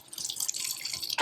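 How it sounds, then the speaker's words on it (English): Kitchen tap water runs briefly as a knife is rinsed under it, a steady splashing stream that ends with a louder gush, close by and without talk. "I'll rinse my knife off"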